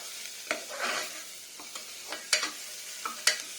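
Chopped amaranth stalks fry in a pan with a quiet sizzle, broken by intermittent sharp scrapes and clacks from stirring.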